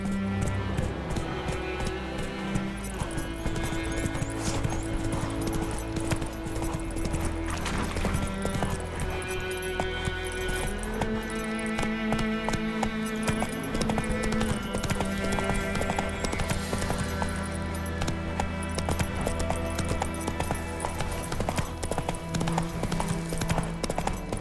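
Roach the horse gallops in The Witcher 3, steady clip-clop hoofbeats pounding throughout under a constant orchestral game score, with an occasional whinny.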